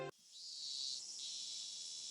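A chorus of cicadas in the visual novel game Higurashi, a steady shrill buzzing drone that swells slightly and holds, continuous and alone after a brief click at the start.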